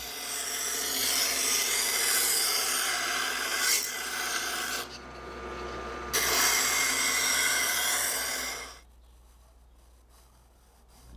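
Steady rasping of a file or rasp smoothing the cut profiles of wooden bullroarer blanks, one of them walnut, loud and close in long continuous strokes with a short pause midway before stopping.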